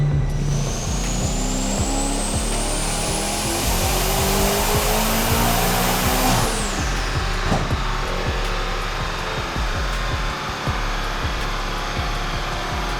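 A 1500 HP Mercedes-AMG GT63S is revved on a dyno, its engine roaring steadily as a turbo whistle rises sharply in pitch, holds, then drops away as the throttle is released, leaving a rough, rumbling idle.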